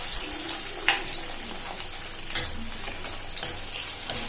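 Parboiled potato pieces frying in hot oil in a kadai, a steady bright crackle and sizzle with a few louder pops, close and continuous with no talk.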